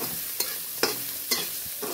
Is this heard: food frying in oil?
yes